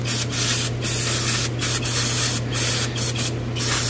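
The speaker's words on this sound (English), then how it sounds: "Use a bit of brake cleaner." Brake cleaner sprayed onto a disconnected hydraulic line on an Audi RS4, several loud, close hissing bursts with short pauses between them over a low steady hum.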